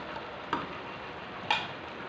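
Green chillies and spices are stirred into vegetables frying in a pan, with potato and brinjal for a desi-style sabzi. A steady soft sizzle runs throughout, broken by two sharp clicks of a spoon against the pan.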